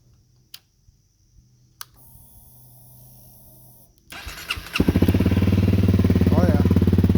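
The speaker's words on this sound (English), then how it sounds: "So this is going to be the first start up on the exhaust." A Honda CRF250L motorcycle fitted with an FMF Q4 exhaust makes its first start-up: a few faint clicks and ticks, then the starter cranks and the single-cylinder engine catches and settles into a loud, steady idle close by.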